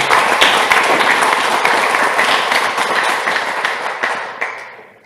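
Sustained crowd applause, dense and steady clapping from many hands, fading out toward the end with no voices over it.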